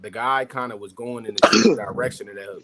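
A single abrupt sneeze bursts out in the middle of a man's speech during a casual conversation about boxing, with talking before and after it.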